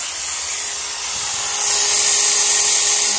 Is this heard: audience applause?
no